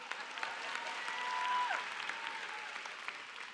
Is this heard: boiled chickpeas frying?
no